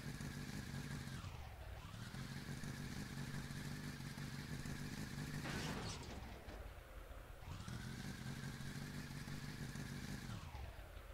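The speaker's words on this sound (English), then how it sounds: "Only really ambient sound effect is the car's engine." A synthetic car engine from the game HoverDrive on PS Vita drones loudly, its pitch dropping and rising in smooth sweeps as it slows and revs again, with a brief noisy whoosh midway.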